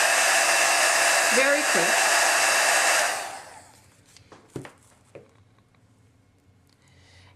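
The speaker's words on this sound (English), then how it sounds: "Now just give it a quick shot with your heat tool." A heat tool blows hot air over a paper flower in a steady loud whoosh for about three seconds, then cuts off, followed by faint handling clicks and a brief spoken remark.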